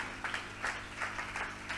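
Applause from a church congregation at a women's convention, scattered rhythmic clapping in loose bursts over a low hum, moderately faint and without talk.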